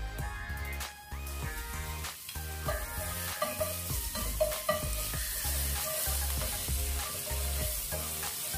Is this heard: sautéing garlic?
yes